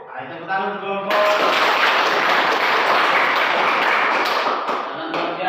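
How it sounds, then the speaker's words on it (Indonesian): Teachers in a vocational school certification session give a group a burst of applause, dense clapping that starts after a brief voice and holds steady for several seconds. "Ayo tepuk tangan untuk kelompok."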